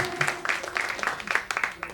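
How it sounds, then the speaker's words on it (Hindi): A music show audience gives a short burst of applause for a keyboard player. The clapping is dense and rhythmic, at moderate level, and lasts about two seconds. "जोरदार तालियां और आपको बहुत बहुत अभिनंदन।"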